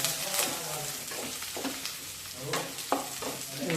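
Capsicum and onion fry in a pan for paneer manchurian, giving soft sizzling broken by several scraping stirs of a spatula at close range, with no speech.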